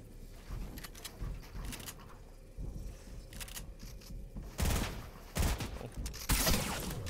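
Bursts of gunfire in the Fortnite video game, several sharp loud volleys toward the end over a steady game background.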